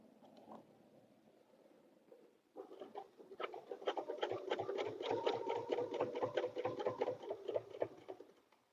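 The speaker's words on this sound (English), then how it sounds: "I can stitch up to the line." A sewing machine stitches an outdoor door sign, starting with a faint low hum, then running in a fast, steady rapid-fire clatter of needle strokes for several seconds before stopping.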